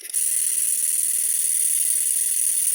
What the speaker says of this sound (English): Stuart 10Vs are classified as a high-speed steam engine and they really do go fast.